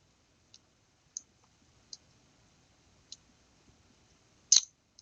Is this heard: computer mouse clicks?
yes